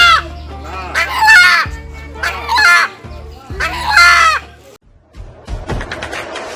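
Rooster crowing up close in loud, drawn-out calls, three long crows one after another, then softer clucking and scratchy rustling at the end.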